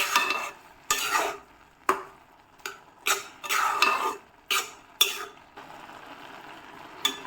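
Carrot halwa with sugar stirred in a pan, a spoon scraping the bottom in separate strokes about once a second, close and clear over a faint cooking hiss, no voices.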